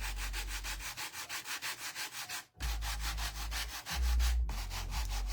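A jar being rubbed with rust-effect paint for a bat-themed craft, giving steady rhythmic scrubbing strokes close up, with a short break midway and a low hum underneath; no talking.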